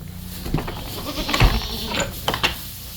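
Goats at a farm bleat in scattered calls, several short nasal cries from nearby, one louder bleat in the middle and another toward the end, with quiet barn noise between them.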